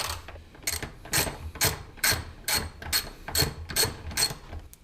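A ratchet with an extension and 10mm socket removes airbox bolts on a Honda S2000, with about nine quick, evenly spaced clicking bursts heard up close.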